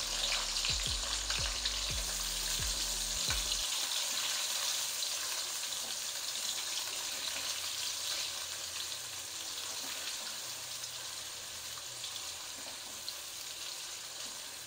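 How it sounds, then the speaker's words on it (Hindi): Three medium chopped onions frying in oil for chicken rice, giving a steady close sizzle throughout, with a few soft knocks of stirring at the start. "प्याज़ों को दरमियाना सा फ्राई करना है"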